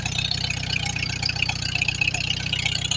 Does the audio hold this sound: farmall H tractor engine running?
yes